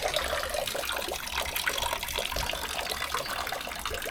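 Water trickles and splashes steadily in a small druid's well inside a shallow cave at Alderley Edge, a continuous close bright running sound with no voices.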